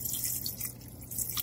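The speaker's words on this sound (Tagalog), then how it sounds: "Dagdagan natin ng konting tubig." A soft, steady trickle of water pouring into a cooking pot of pancit bihon, close and quiet, with faint splashy flutters.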